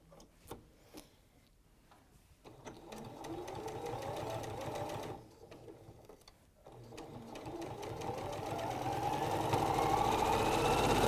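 A sewing machine stitches quarter-inch seams in quilting fabric, its rapid mechanical whirr running in bursts with short pauses and building to a steady, louder run near the end.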